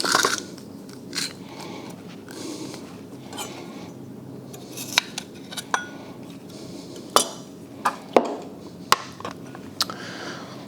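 Large garlic cloves minced with a kitchen knife while porchetta ingredients are prepped, heard as scattered sharp clicks and taps of the blade on the board, sparse at first and then more frequent, over a steady low room hum.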